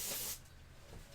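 A short hissing spray burst, fairly close, cutting off after a moment into quiet room noise.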